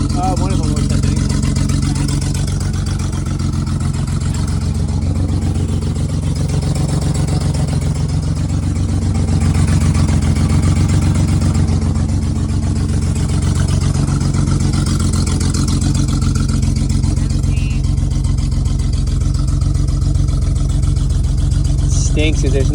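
A BMW E12 with an S52 swap idles with its exhaust dumping right under the cabin and no catalytic converters, a loud, steady low engine drone that continues for the whole stretch while people talk over it.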